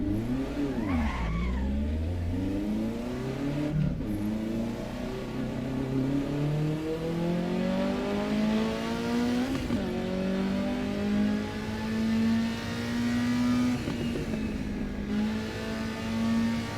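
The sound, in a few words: racing car engine in the Assetto Corsa Evo video game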